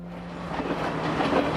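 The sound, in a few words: train on the Kandy–Badulla line in Sri Lanka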